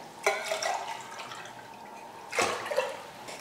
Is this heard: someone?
no